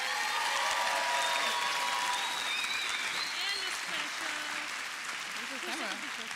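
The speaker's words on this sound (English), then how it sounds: "Let's give them a round of applause one more time for their hard work." High school graduation audience applauding, a loud sustained wave of clapping from a large crowd with cheers and whoops rising above it, fading slightly toward the end.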